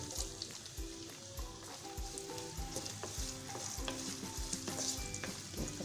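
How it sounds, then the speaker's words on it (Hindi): White cumin seeds and a medium-size onion sizzle in hot oil with steady frying crackle, while repeated stirring strokes scrape the pan in a slow rhythm. "इसमें हम डालेंगे 1 टीस्पून सफ़ेद ज़ीरा और इसी के साथ हम इसमें डाल देंगे 1 मीडियम साइज़ की प्याज"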